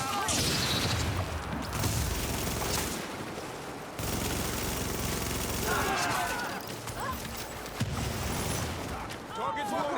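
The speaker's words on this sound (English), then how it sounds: "Enemy hostiles, open fire!" Heavy video game gunfire in a firefight, dense bursts of shots and booms filling the whole stretch with brief gaps, while a voice talks over the action.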